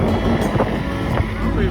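A boat with powerful engines arriving at a Sicilian harbor during a trip to the Egadi Islands, its low engine rumble steady under wind buffeting the microphone.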